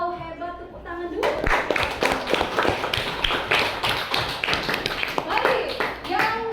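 Children in a classroom clap their hands together in a sustained burst of rapid, overlapping claps, with kids' voices mixed in and a teacher speaking before and after.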